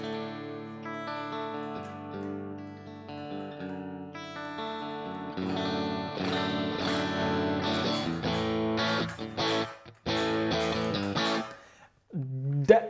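An electric guitar through a Marshall-style tube amp sound on a Quad Cortex, with a slightly overdriven crunch tone, plays chords and single notes, ringing out with sustain, then a few sharp muted strums near the end.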